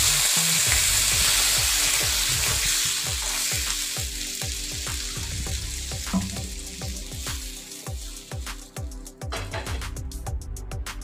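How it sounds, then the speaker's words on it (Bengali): Water goes into a pan of small hilsa fish that were lightly fried first, and hot oil sizzles and crackles steadily, with sharper spattering pops toward the end. "এবার জল দিয়ে দিব"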